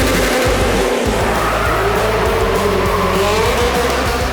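A gymkhana car slides a long distance along a rail, its engine roaring loud and close with steady tire and scraping noise that holds without a break for several seconds.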